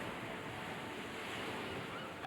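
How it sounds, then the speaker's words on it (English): Ocean waves surging against a rocky shoreline on the coast of Maine, a continuous broad roar of churning surf and spray with wind across the microphone, steady and full throughout. "waves assail the rocks with surging strength."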